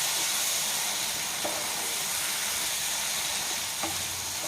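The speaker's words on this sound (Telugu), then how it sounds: "బాగా ఉడుకుతుంది" Tomato gravy with prawns simmering in a covered pan, giving a steady close sizzling hiss with faint bubbling pops throughout.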